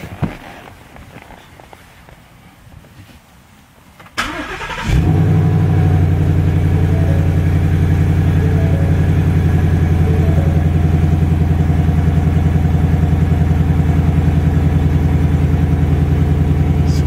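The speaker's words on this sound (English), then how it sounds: "I'm actually going to go ahead and put my foot on the brake and start the car up" A Ford car engine cranks over briefly, catches and settles into a steady, loud idle that runs on evenly close by, with faint background noise before the start.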